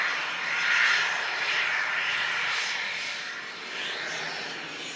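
An EasyJet airliner approaching to land at Manchester Airport during Storm Lilian, its engine roar swelling and fading as it passes, with gusty wind noise blending in.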